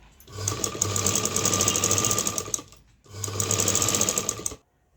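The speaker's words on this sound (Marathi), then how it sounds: "लगेच दुसरं कापड आपल्याला स्टिच करायला घ्यायचं आहे" A sewing machine stitches fabric in two loud, steady runs of rapid mechanical chatter, separated by a short pause and ending abruptly in silence.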